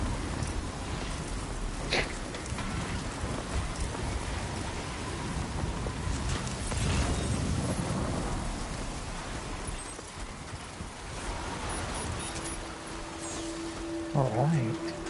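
Steady heavy rain pours through a thunderstorm in the video game Death Stranding 2, with low rumbles of thunder rolling beneath the constant hiss and a brief tonal game sound near the end.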